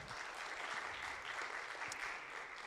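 A round of applause from a church audience, steady, fairly soft and distant clapping throughout with no talking on top.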